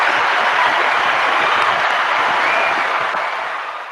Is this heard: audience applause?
yes